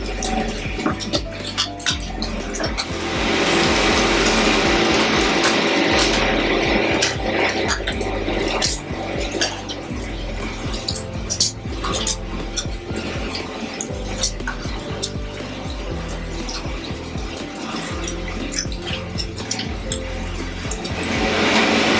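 Pizza dough turning in a professional kneading machine, a steady churning with splashy, clattering metallic bowl noise and soft slaps, loud and continuous throughout.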